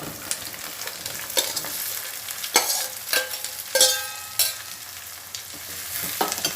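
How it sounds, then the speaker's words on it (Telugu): Ivy gourd pieces frying with onions in a pan, a continuous close sizzle with repeated scraping stirs and occasional louder clanks of a spatula against the pan. "ఇప్పుడు నేను దొండకాయ ముక్కలు వేసేస్తాను"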